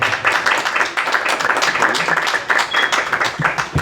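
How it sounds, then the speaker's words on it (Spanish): People at a poetry reading in Cuernavaca clap for a poet, an uneven, moderately loud patter of separate claps from a modest audience. "Un aplauso, por favor."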